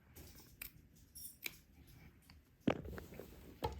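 Scissors trimming a fabric seam back to 1/8 inch around a neckline, a few faint, close snips and soft clicks spread over quiet background.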